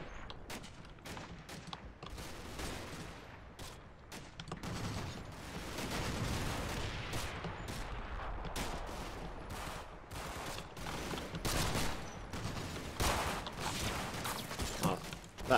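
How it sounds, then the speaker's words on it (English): Mortar team firing in the wargame Combat Mission, a dense run of sharp gunfire cracks and distant blasts, irregular bursts scattered throughout at low overall volume with no talk. "that mortar team was shooting up this guy"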